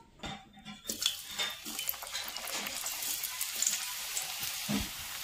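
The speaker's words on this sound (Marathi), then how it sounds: "आता तेलामध्ये चिप्स टाकून देऊ" Homemade chips drop into hot oil and sizzle with a steady bright hiss, close by. Light clinks of a utensil or pan sound at the start, and a few bubbling pops come through.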